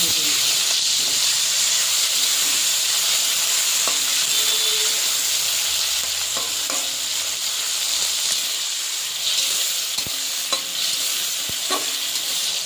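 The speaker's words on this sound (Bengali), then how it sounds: "চিংড়ি মাছটা ভাজা হয়ে গেছে।" Prawns frying in hot mustard oil in a wok, a loud, steady sizzling hiss with occasional clicks and stirring scrapes, close up and without voices.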